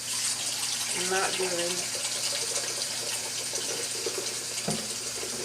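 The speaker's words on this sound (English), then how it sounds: "get me some water going so I can clean this mess up real quick." Tap water runs steadily into a kitchen sink, a loud continuous splashing rush, with a person speaking briefly over it.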